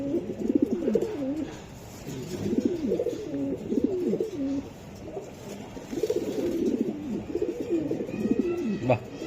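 Budapest racer pigeons coo in repeated rolling phrases, close and fairly soft, with voices talking faintly in the background.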